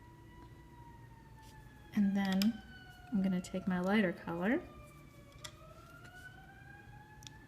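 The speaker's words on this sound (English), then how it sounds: "I don't know if you can hear that siren outside." A siren wails faintly in the distance outside, sliding up and down in pitch beneath a person speaking nearby.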